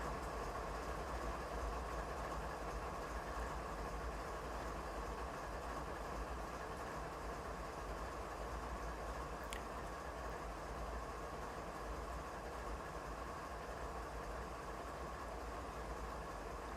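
A locomotive engine in Train Simulator 2021 idles with a deep, steady rumble, a constant low drone and faint mechanical hum, no talking, sustained throughout.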